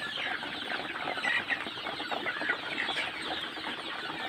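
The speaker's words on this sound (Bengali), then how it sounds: "কিছু মুরগি জল খাচ্ছে, কিছু মুরগি খাবার খাচ্ছে।" A flock of Sonali and desi chickens feeding from a bamboo trough and drinking water in winter, clucking steadily and densely all around at close range, with no voices.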